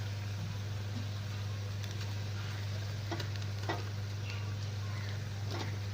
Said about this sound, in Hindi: अब आलू डालो और भूनना शुरू कर दो